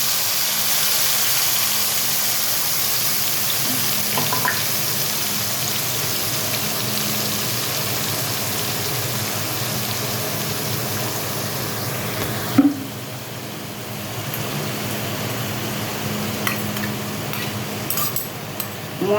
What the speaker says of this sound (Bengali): মশলা বেটে রাখার বাটিটা ধুয়ে একটু জল দিয়ে দিলাম।